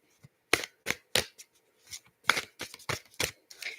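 A crystal card deck being shuffled, with a string of sharp, papery riffles and snaps in irregular bursts, fairly close and alone with no talking.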